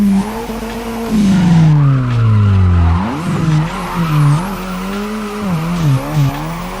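A loud race car engine in a video game, a DeathWish Garage car, revs and drops in pitch while tires squeal and skid, with sweeping whines rising and falling throughout.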